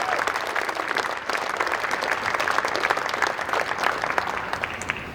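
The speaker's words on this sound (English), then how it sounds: "A round of applause for a man that made this happen with the monument." A crowd at a stock show ribbon-cutting and opening ceremony on fairgrounds claps steadily in a dense, even wash of applause that holds for several seconds.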